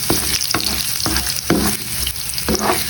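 Garlic and ginger sizzle steadily in a hot pan, with loud continuous frying broken by several sharp stirring scrapes at regular intervals; no voices.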